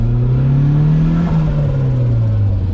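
A wrecked Mazda Miata's engine revs hard near full throttle, a loud, steady mid-pitched drone that holds high and dips slightly as if hitting a fuel cut, close to the microphone with no talking.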